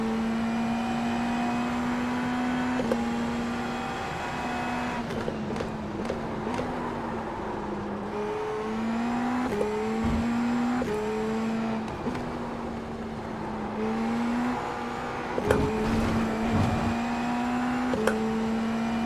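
A race car engine in the iRacing sim racing game drones steadily at close range, its pitch stepping up and down with shifts and throttle changes over a continuous background hum.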